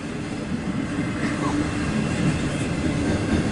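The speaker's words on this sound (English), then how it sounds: "If there's such a thing as a 600 axle trailer train, this is it." A CSX intermodal freight train rolls past with a continuous low rumble and wheel noise, steady and fairly close the whole time.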